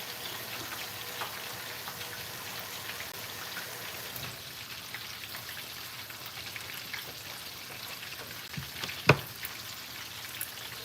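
Fish sizzling and crackling steadily in hot oil in a pan, a dense continuous fry with small pops and one sharper clink near the end, with no talking.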